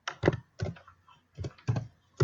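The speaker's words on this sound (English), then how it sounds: "I am a pecker when it comes to typing numbers, so I have to peck my numbers." Slow, pecking keystrokes on a computer keyboard while a phone number is entered, about six separate clicks with pauses between them, close and quiet.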